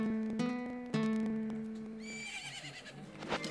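In the N64 game The Legend of Zelda: Majora's Mask, a horse whinnies with a sharp, tonal neigh, followed by a second brighter neigh amid faint game sounds.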